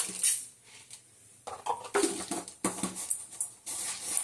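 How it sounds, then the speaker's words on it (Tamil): Mustard seeds crackle and pop in hot oil in a home kitchen, a burst of irregular sharp spits and sizzles that comes and goes, close and moderately loud, with no talking. "இப்போ எண்ணெய் காய்ச்சி கடுகு போட்டுக்கலாம். கடுகு நல்லா பொரியட்டும்."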